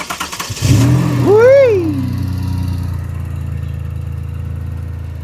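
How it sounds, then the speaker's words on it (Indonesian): Up close, a Daihatsu Ayla turbo three-cylinder car engine cranks briefly and fires, swells into one quick rev that rises and falls, then settles into a loud, steady idle, with a short exclamation from someone nearby. "suara mesin V6 itu sama mesin 3 silinder ada mirip-miripnya"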